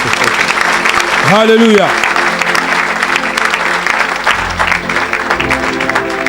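A church congregation at a French-language deliverance service breaks into loud sustained applause and cheering, with a voice calling out over the clapping.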